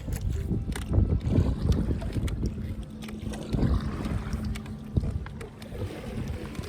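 A solo canoe crossing rough, choppy water on Fourth Lake in the Adirondacks, with steady wind buffeting the microphone and irregular splashes and water slaps throughout, and no talking.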